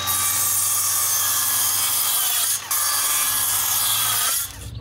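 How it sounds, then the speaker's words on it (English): Decking boards being cut, a loud continuous rasping saw stroke through wood with a brief pause midway, then resuming before tapering off at the end, close and without talk. "Now we need to cut 2 decking boards 16 inches."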